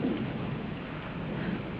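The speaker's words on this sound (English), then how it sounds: "That's only thunder." Low, steady rumble of thunder from a storm fills the moment, a dull broadband roar with rain-like hiss, no voices.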